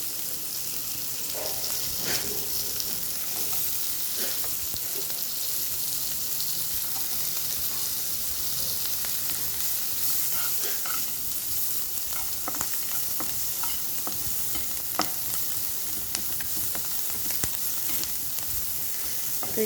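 Diced onions sizzle steadily in hot butter for a butter chicken base, with a dense, even crackle and occasional scrapes of stirring. No one talks.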